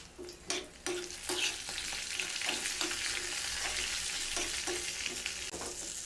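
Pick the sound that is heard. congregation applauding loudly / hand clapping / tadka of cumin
tadka of cumin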